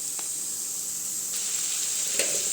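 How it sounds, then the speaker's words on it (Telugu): Chopped beetroot fries with onions and turmeric in an open pan, giving a steady, close sizzle with a couple of soft stirring taps. "ఇప్పుడు తరిగిన బీట్రూట్‌ని తీసుకొని యాడ్ చేసుకుంటున్నాను."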